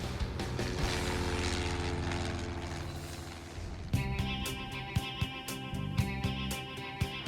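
A propeller airplane on its takeoff roll, climbing toward rotation at 55: a loud, close, steady engine drone with strong propeller harmonics, shifting in tone partway through, with some sharp clicks in the later half.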